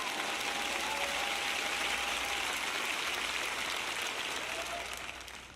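Audience applause fills a church sermon, a dense, steady wash of clapping from a large crowd that holds evenly and then tapers off near the end.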